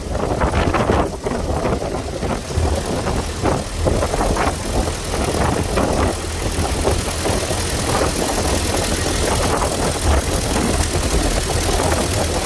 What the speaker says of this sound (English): Cruising the countryside in open top 1915 Model T.